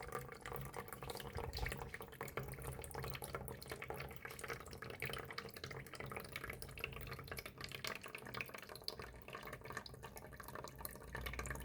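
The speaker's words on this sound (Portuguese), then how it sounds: "a água já está descendo aqui numa coloração mais límpida, ou seja, está ocorrendo a filtração aqui." Water draining steadily through a filter in a simple classroom filtration setup, a continuous soft trickling and dripping wash that stays even and close throughout, with no voices.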